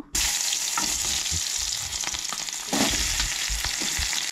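Onions frying in hot oil for Goan white peas curry, a dense continuous sizzle with occasional stirring scrapes, close and steady throughout.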